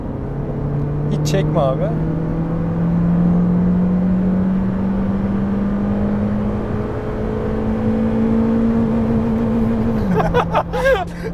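A Honda Civic engine is held at full throttle toward redline, a sustained droning hum whose pitch climbs slowly and then drops away, heard from inside the car with brief talk from the occupants.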